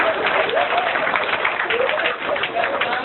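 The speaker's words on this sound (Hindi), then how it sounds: "भाई बहुत जोरदार ताली इस बात के लिए होनी चाहिए।" Audience at a centenary celebration event in Bijnor claps in a steady, dense wash of applause that holds for about three seconds, fairly loud and close.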